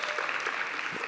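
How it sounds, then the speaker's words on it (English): Brief burst of audience applause at a policy conference as a speaker is called to the stage, a dense wash of clapping throughout. "Please give her a round of applause."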